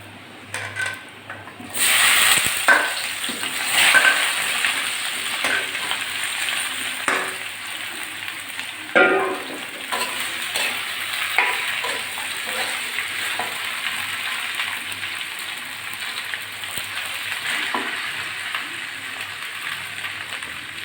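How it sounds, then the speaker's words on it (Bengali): Cut teasel gourd, potato and okra sizzle steadily in a hot pan, a continuous crackling fry with occasional stirring clatters and louder spits, no talking over it. "এবার ধুয়ে কেটে রাখা কাঁকরোল আলু আর ভেন্ডি একসঙ্গে আমি দিয়ে দিচ্ছি"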